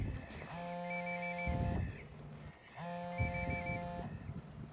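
Two repeated electronic ringtone bursts from a phone in Ghost Recon Wildlands, quiet and steady, with rumbling game noise underneath and between the rings.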